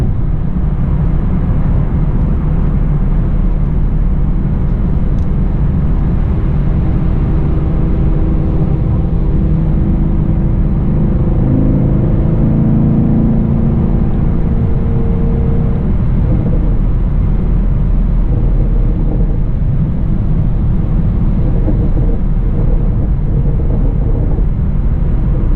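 A Chevrolet Camaro SS 1LE pulls hard through fifth gear toward 100, its engine drone loud and steady inside the cabin with heavy road and wind rumble throughout.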